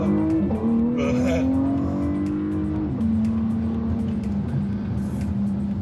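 A 2023 Porsche Panamera 4S E-Hybrid with all-wheel drive accelerating hard in Sport Plus mode. A loud, close engine note climbs steadily, dips briefly at a gear change, then keeps pulling, with a short tire squeal early on.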